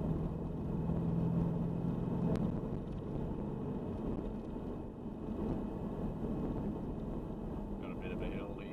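A Nissan ZD30DI diesel engine accelerates slowly in fourth gear, a steady low droning engine note with road and wind noise that stays fairly constant throughout.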